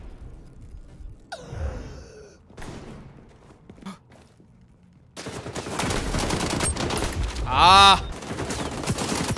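Automatic gunfire in the shooter game XDefiant breaks into a loud, sustained burst in the second half. Before it come quieter game sounds, a short exclamation and some gasping breaths.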